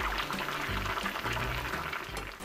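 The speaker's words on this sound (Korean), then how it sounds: "보글보글 끓는 소리가" Freshwater catfish spicy stew boiling in a pot, a close, steady bubbling and gurgling with soft liquid pops throughout, no voices over it.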